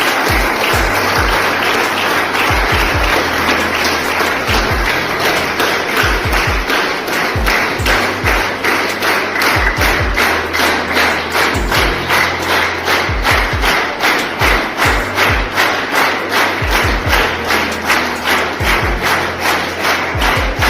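Audience at a student farewell party clapping in a steady, loud, rhythmic unison beat of even hand claps that continues throughout, with a faint crowd murmur beneath.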